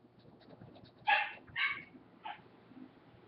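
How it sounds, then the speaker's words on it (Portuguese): A pet dog barks a few times from a short distance, three or four sharp separate yips spaced about half a second apart over a quiet indoor background. "Se vocês estiverem escutando barulho de vento e da minha cachorra latindo"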